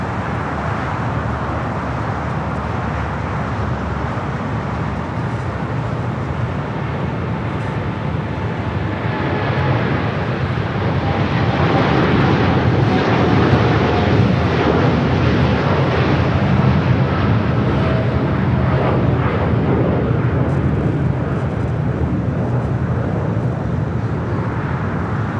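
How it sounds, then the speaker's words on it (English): A Boeing Dreamliner takes off on runway 25 right at LAX, its rumbling engine noise swelling partway through the takeoff roll into a louder, sustained roar heard from a distance amid general airport background noise. "the Dreamliner now rolling down at 25 right"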